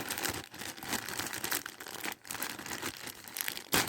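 Crinkling and tearing of plastic packaging as a new face mask is opened, a dense run of close, loud crackles with brief pauses and a sharp rip near the end.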